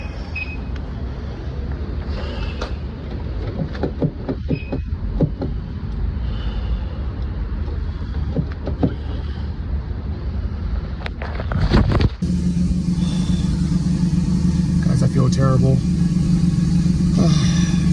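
Car interior on a drive, a continuous road and engine rumble running throughout beneath a person speaking, shifting to a steadier louder hum with a tonal drone near the end.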